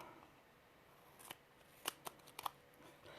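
Small scissors cut paper butterflies in a few quick, crisp snips, faint and close, with a quiet room in the background.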